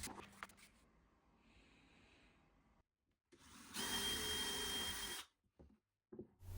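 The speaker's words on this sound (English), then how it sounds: "I first drill down using a guide to ensure the holes are straight" A power drill run through a guide to bore straight shelf-pin holes in a wooden cabinet gives a loud steady whir of about a second and a half. Shorter, quieter buzzes come before and after it, with pauses between.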